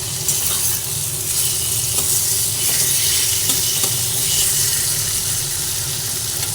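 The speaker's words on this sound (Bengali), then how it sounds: "একসঙ্গে আবার সব মশলা নাড়াচাড়া করে ভেজে নিচ্ছি" Spices and tomato fry in a pan for a rui fish curry, giving a continuous close sizzle and hiss with occasional soft scrapes of stirring throughout.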